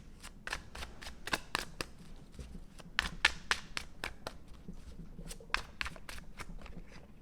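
Tarot cards being shuffled in the hands, a quick run of crisp riffling snaps and soft slaps, some bunched in bursts, close and clear with no talk.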